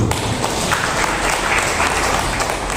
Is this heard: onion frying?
no